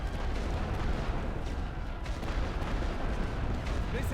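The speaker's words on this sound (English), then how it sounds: "Oh, they're getting grenades in the trenches." Grenades burst in trenches in a World War One strategy game amid dense, continuous battle noise, with heavy rumbling blasts and crackling gunfire layered thickly throughout at a steady loud level.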